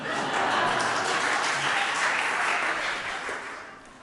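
A church congregation applauds after the Sunday service announcements, a dense, even patter of many hands clapping at once that holds steady and then gradually thins out.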